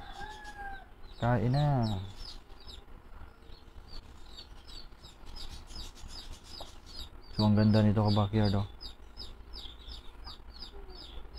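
Frizzle chickens in a small backyard cluck in two loud bursts near the start and middle, with softer clucks and chirps between, while someone talks over them.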